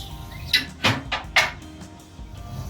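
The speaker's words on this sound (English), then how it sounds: "I've got a lever here that operates a door in the bottom of the firebox to let the ashes out" A lever-operated ash door on the bottom of a smoker tractor's metal firebox opens, giving a series of close, sharp metallic clanks and scrapes followed by quieter rattling.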